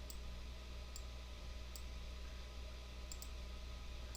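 Computer mouse clicks while working in Adobe Illustrator, a handful of sharp, faint, isolated clicks spaced irregularly over a quiet steady hum.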